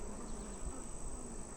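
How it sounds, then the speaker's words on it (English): Bees humming softly inside an open beehive box, a faint steady buzzing drone close by with no talk. "But that's a box of bees. And they are super quiet."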